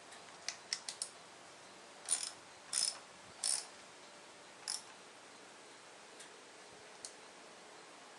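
Ratchet turning spark plugs on a Chevrolet Malibu 2.4L Ecotec engine, a few sparse, faint clicking strokes spread over a quiet background hiss.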